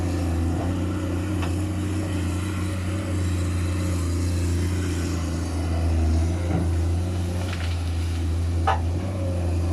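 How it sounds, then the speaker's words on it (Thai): A steady, low diesel engine drone runs throughout, a new Komatsu PC210 excavator idling nearby with a few faint clicks and knocks over the rumble. "เสียงเครื่องยนต์นี่เป็นเอกลักษณ์นะครับ"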